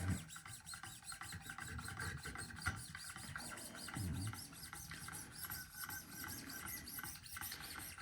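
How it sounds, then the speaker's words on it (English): Knife blade being lightly scrubbed back and forth on Wicked Edge sharpening stones during polishing, a steady close rasping friction with rhythmic strokes throughout and no voices. "I tend to do a little bit of scrubbing at the very beginning of any time I move up from one set of stones to another."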